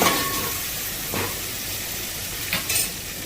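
Steady loud sizzling hiss of spices frying in hot oil for a dal tempering, with a couple of brief louder bursts of crackle.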